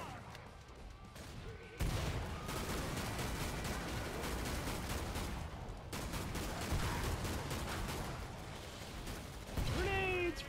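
Gunfire in Killing Floor 2 on PS4, dense continuous automatic shooting with rapid repeated cracks and louder bursts after the first two seconds, sustained and close.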